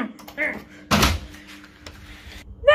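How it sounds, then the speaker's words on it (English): A door opens with a sudden loud thunk partway through, surrounded by someone talking before and after it. "get the recording dude to open the door"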